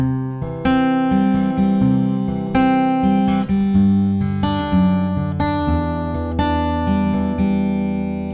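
Fingerpicked acoustic guitar playing a song's picking pattern: a steady, continuous run of plucked notes and ringing chords, close and clear, with no talking.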